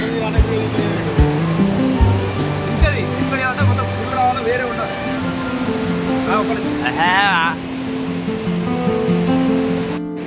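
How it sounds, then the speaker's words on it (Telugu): Constant rushing water from a waterfall roars steadily, with people talking and calling out over the flow. "వాటర్ ఫ్లో అవుతుంది"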